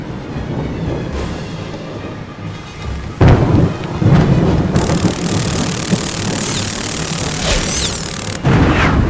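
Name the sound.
thunderstorm in Harry Potter Prisoner of Azkaban video game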